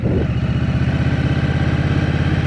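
A 2023 Indian Scout Rogue's liquid-cooled engine runs during a ride, a steady, smooth mid-pitched pulsing hum that is close and constant and fairly quiet for a motorcycle.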